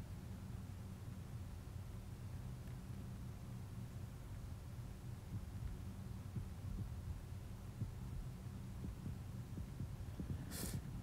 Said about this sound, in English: I can hear my heart beating.